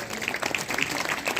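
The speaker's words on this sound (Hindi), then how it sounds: "तालियां बजा दो उनके लिए भी एक बार।" An audience at a religious gathering applauds, a brief steady patter of many hands clapping at moderate distance, with a voice faintly audible underneath.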